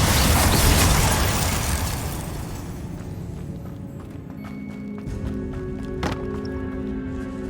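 Spell casting in Hogwarts Legacy inside a tomb, a loud blast and crackling rush at the start that decays into quieter ringing magical tones and a sharp zap later on, with no talk.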